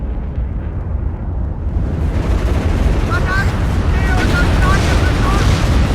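Airstrike explosions from an A-10 Thunderbolt attacking tanks in the WW3 strategy game WARNO form a dense, loud, continuous rumble of blasts and gunfire. The roar swells after the first two seconds, and faint whistling tones ride on top.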